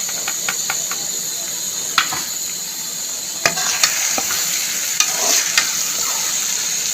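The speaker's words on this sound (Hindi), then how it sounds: "अब इसके अंदर हम ऐड कर देंगे फ्राई की हुई भिंडी।" Fried okra being stirred into roasted spices in a pan gives a steady sizzle and hiss. Sharp scrapes and clinks from the spoon come up close at irregular moments.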